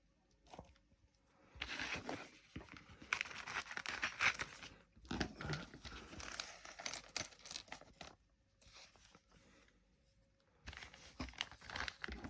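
Plastic packaging for components of a 1:8 scale Back to the Future DeLorean model kit is opened: close crinkling and tearing in irregular bursts, with small clinks of loose parts such as screws and quiet pauses between.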